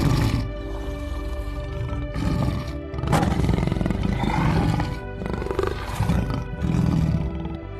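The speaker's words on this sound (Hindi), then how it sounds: "ये तो शेर की आवाज है" Lion roaring in a cartoon setting by a riverbank, loud repeated deep roars in long bursts separated by short pauses, rumbling and growling without any voices.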